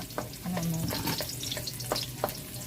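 Cabbage and malunggay stir-fried in a pan, a soft steady sizzle broken by repeated scraping and clinking of a utensil against the pan.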